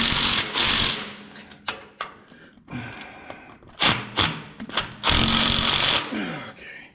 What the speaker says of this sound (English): I'm going to tighten them up with my ratchet